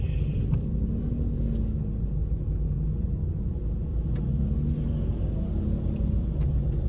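Steady low rumble of a car idling in neutral in slow traffic on a drizzly day, constant and close, with faint ticking sounds above it.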